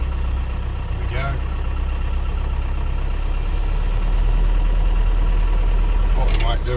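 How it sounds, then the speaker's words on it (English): An off-road vehicle's engine runs at a low steady idle while its winch slowly hauls in cables on a bush trip. The drone is continuous, and a few short speech-like sounds rise over it. "Now we should be winching very shortly."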